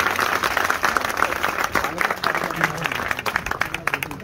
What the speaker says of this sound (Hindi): मैं आप तमाम दोस्तों से इल्तमास करूंगा कि पुरजोश तालियों से मरकजी अंजुमन ताजरान के नौजवान का इस्तकबाल करेंगे।